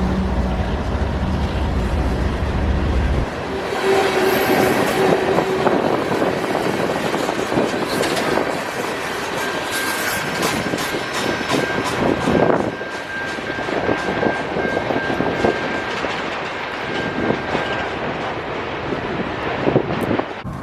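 A coal train with two mid-train distributed power units rolls past on the W&A line, a loud continuous rumble of locomotives and cars with a sustained tonal whine and clanking texture, shifting after a few seconds as the train passes close.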